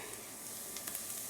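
Minced garlic and shallots fry in extra virgin olive oil in a skillet over medium heat, a bright, even sizzle close up with faint stirring scrapes, brief and steady, with no talking.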